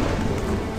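Steady, dense patter of rain from an old Atari 2600-style video game, a constant close hiss with no talk over it.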